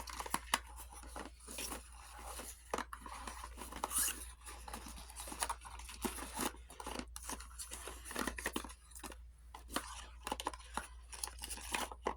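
Empty makeup box packaging is opened up close in quiet surroundings, giving a string of crisp tearing, crinkling and scratchy paper-card sounds in irregular bursts with brief pauses, no talking.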